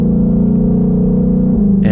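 A 2021 Shelby Mustang GT500 accelerating on the oval at Texas Motor Speedway, its engine roaring loud and close, with a gear shift near the end where the pitch drops and then climbs again.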